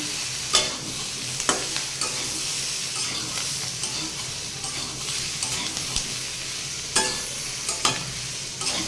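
A spoon stirs turmeric into vegetables frying in a pan, with a steady sizzle and several sharp scraping clicks from the utensil at irregular moments.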